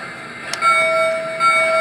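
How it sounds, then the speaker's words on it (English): Bell on a model train locomotive triggered through a universal remote, with a bright metallic ding near the middle and sustained tonal ringing after it, fairly clear against a quiet background. "There's the bell."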